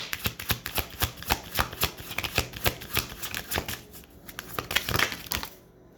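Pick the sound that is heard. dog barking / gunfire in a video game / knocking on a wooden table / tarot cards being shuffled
tarot cards being shuffled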